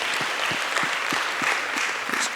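An audience at a talk on taxes gives a round of applause, even continuous clapping at moderate level, slightly distant, with no speech over it.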